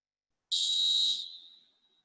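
A volleyball referee's whistle blown through a face mask: after half a second of silence, one loud, sharp, shrill blast of under a second that fades out quickly, no talk.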